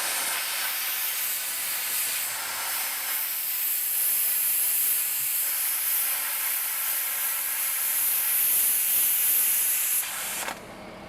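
A Vevor 50A non-touch plasma cutter, guided along a fence, slices through 3/8 inch mild steel. It gives a loud, steady hiss that holds for about ten seconds and then stops abruptly.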